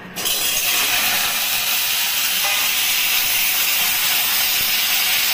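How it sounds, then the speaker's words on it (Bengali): Pointed gourd (potol) dropped into a little hot oil, a sudden burst of loud sizzling that settles into a steady, close crackling hiss. "তাই অল্প তেলে আমি পটলটাকে ভাজবো"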